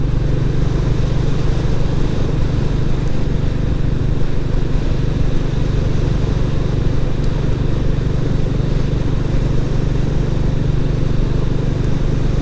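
A Royal Enfield Classic 350 motorcycle ridden on the Olivers Mount race circuit, its single-cylinder engine giving a steady, close, low thumping drone that holds an even pace throughout, with no talking.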